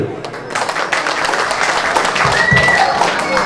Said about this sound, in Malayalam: പ്ലീസ് കൈയടികൾ